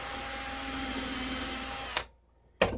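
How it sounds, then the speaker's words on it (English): Close, loud power drill runs steadily through a wooden hinge pin for about two seconds, cuts off abruptly, then starts again briefly after a short silence. "And let's drill it from this way."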